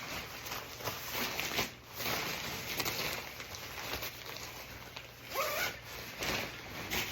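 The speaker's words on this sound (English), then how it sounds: "Unzip the whole thing." The zipper on a Jerven insulated winter shelter is drawn along in long rasping pulls, faint and close, over steady outdoor background noise.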